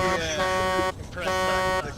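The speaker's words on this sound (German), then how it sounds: "Du sollst nicht hupen, du sollst Gas geben!" A vehicle horn honks twice in the video game Hell Let Loose, sustained tonal blasts separated by a short gap, loud and close, with a voice faintly under it.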